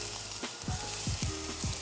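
Shrimp and zucchini sizzle on a grill, a close, continuous hiss with a few sharp crackles and pops.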